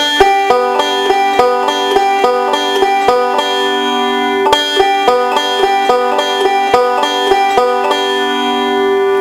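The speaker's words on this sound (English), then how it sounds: "Again, we can start the forward roll on our middle finger." A forward roll starting on the middle finger across plucked strings: a continuous, evenly rolling run of bright, ringing notes in a looping pattern, loud and close throughout.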